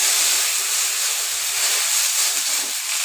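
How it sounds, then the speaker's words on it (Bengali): Okra fries in a pan with a steady, loud hissing sizzle that holds evenly throughout, with no talking. "এখন আমি এই যে ভেন্ডি ভাজা করতে দিয়েছিলাম, তো ভাজা ভাজা মনে হয়ে গেছে।"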